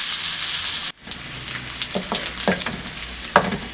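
Onions frying to light brown in a pan for spinach chicken curry: a steady loud sizzle that suddenly drops, then a softer ongoing crackle with intermittent spoon stirring and scraping.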